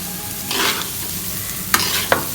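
Rice for pulao being fried and stirred in a hot pan, a steady close sizzle with a few scraping stir strokes and two sharp clacks of the utensil against the pan.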